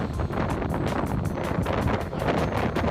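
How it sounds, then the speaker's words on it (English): Strong wind on a mountain trail buffets the microphone in a constant roar with pulsing gusts, loud and close throughout. "it was really windy"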